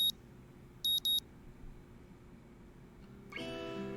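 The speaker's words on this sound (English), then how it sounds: "The sound of my alarm is an unwelcome intrusion on a sleep that's been a battle to obtain." Three short electronic video game alarm clock beeps ring out, a single one then a quick pair, before a brighter buzzing tone starts and holds steady.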